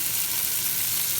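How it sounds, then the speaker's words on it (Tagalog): Food fries in a pan with a dense, steady sizzle that stays close and even from start to finish, with no voices over it. "So, ipiprito ko na siya."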